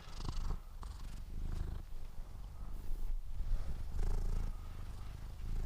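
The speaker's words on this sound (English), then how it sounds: "you want to hear you purring" A cat purring close up in a quiet room, a soft steady low rumble running continuously with gentle rhythmic swells.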